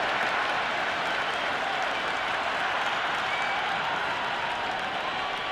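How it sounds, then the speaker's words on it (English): Dense stadium crowd in the Cricket 26 video game applauding and cheering, a loud, continuous wash of clapping and crowd buzz that holds steady throughout without a break. "It's the most enthusiastic crowd you could ever see right now. There's a buzz, a real buzz coming from the stands."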